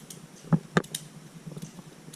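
Scissors cut craft material, making two distinct close snips about a quarter second apart, followed by faint rustling and clicking.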